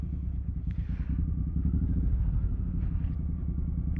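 The engine of a 2012 Suzuki Boulevard M109R motorcycle cruises with a deep, steady, throbbing low rumble, close and continuous, with faint wind noise above it.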